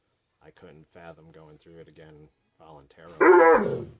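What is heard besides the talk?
dog growling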